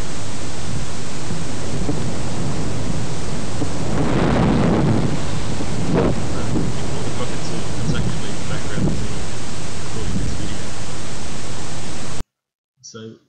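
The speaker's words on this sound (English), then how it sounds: "Now this is typically the sound of wind." Wind buffets an outdoor field recorder, making a loud, continuous roaring rumble with surges and gusty thumps that fill the whole recording before it cuts out abruptly near the end.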